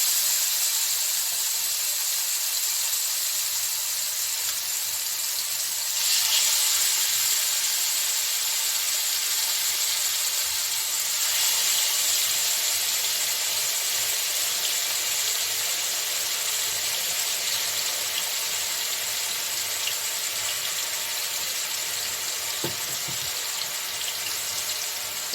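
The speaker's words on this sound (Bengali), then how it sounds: "তেলটা আমার গরম হয়েছে, আমি এক এক করে আমি এই যে মাংসগুলোকে দিয়ে দিচ্ছি।" Chicken pieces sizzle and hiss in hot oil in a pan, a loud steady broadband crackle that swells slightly as more pieces go in, continuing unbroken for about twenty-five seconds with no talk.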